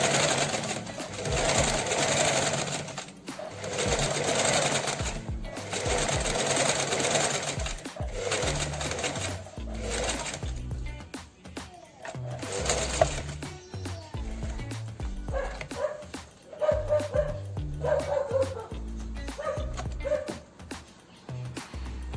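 A sewing machine stitches a zipper pouch in bursts of steady running broken by short pauses, with light handling noise between runs and a few faint background sounds.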